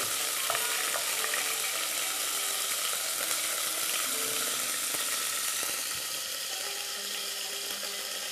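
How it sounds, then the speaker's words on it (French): Chicken browning in a frying pan, giving a steady bright sizzle with a few faint clicks of a utensil, continuous and moderately loud throughout. "Je vais la colorer sur toutes les faces."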